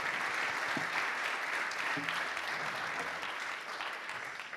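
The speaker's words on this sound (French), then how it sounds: "On peut vous applaudir merci, bien fort pour cette présentation" Audience at a French customer-service industry event applauding the presenters of a sector study, a loud sustained burst of many hands clapping together, dense and continuous from start to finish.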